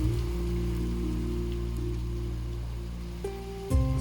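Steady rain falls during a thunderstorm in a forest at night, a continuous even wash of drops on surfaces, with a low steady hum underneath throughout.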